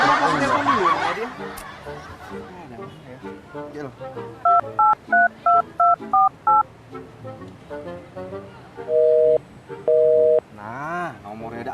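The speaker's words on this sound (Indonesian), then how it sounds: "Tapi apa aku telepon dulu ya dia?" A string of telephone keypad tones, about seven short even beeps in quick succession, followed by two longer tones, all sounding over ongoing talk and background chatter.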